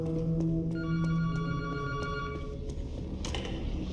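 A telephone rings in a zombie video game, a bright electronic ringing tone repeating in bursts over a low droning game ambience for about four seconds.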